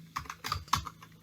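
Code is typed on a computer keyboard, a quick, uneven run of soft key clicks heard close and quiet, with no talking.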